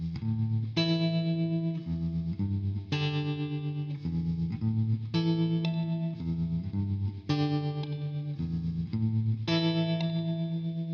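Electric guitar played through effects for a spaghetti western feel, with chorus and distortion. Sustained chords change every couple of seconds in a slow repeating pattern, full and steady with no voices.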